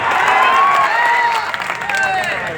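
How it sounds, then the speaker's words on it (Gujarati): Crowd at a political rally breaks into loud, continuous applause and cheering, close and filling the space for the whole stretch, with scattered shouts and voices mixed into the clapping. "મને સાહેબ એકવાર તમારા માટે તાળીઓ થઈ જાય."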